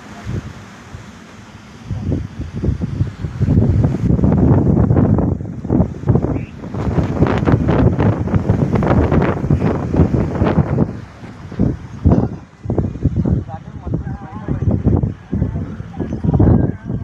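Strong outdoor wind buffets the microphone with a steady, rumbling roar during a long-duration pigeon flying event, while people talk faintly underneath.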